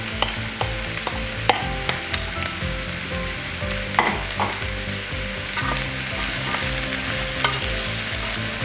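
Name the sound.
stirring zucchini and vegetables in a pot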